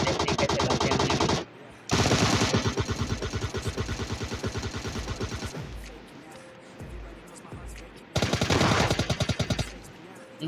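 Automatic gunfire in the PUBG Lite mobile battle royale game, with loud rapid bursts of shots in two main volleys, a quieter stretch of scattered shots and rumble between them, and a further short burst near the end.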